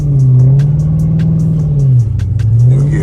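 Dodge Charger SRT engine revving in short, repeated blips as the driver taps the gas, a loud, close, steady rumble with pitch rising and dipping, no talking.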